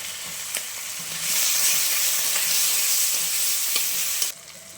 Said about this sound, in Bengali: দেখো মাছের তেলটা কি সুন্দর করে ভেজে নিয়েছি।